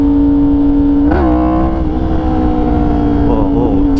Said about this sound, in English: Let's get back on the R1.